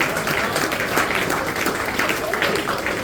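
Audience applause at a poetry recitation event, a dense, steady wash of many hands clapping throughout with a faint murmur of voices mixed in.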